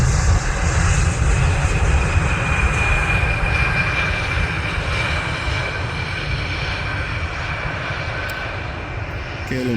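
A KLM Embraer E175 airliner lands at Amsterdam airport, its engines a loud, steady broadband roar that holds throughout with a slight fade toward the end, with no talk over it.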